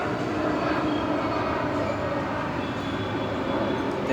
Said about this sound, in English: there's a plane going above my head.